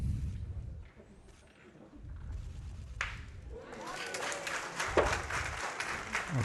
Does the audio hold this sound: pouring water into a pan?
no